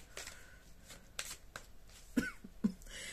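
A deck of playing cards is shuffled close by, giving quiet papery riffles and flutters in a few short bursts, with two soft taps near the end.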